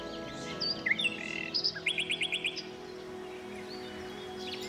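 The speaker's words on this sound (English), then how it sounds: "The thick shrubs below are home to blackbirds and garden warblers." Birdsong from blackbirds and garden warblers in thick shrubs: faint scattered chirps, then a short rhythmic run of repeated bright notes, over a quiet steady background hum.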